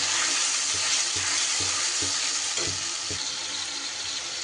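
A paste of ginger, tomato and green chili fries in a hot pan with a loud, continuous sizzle, broken now and then by soft scraping strokes of stirring, and no talk.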